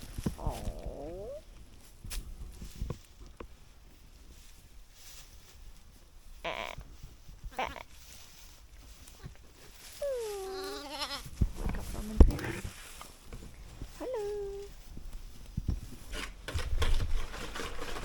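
Sheep and lambs bleating on a British farm, several short calls scattered across the pen at moderate distance, mixed with rustling and handling noise and brief faint human talk.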